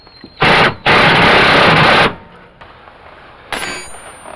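A 9/16 impact wrench drives bolts on a car seat, with two loud buzzing bursts close together followed by a shorter third burst after a pause.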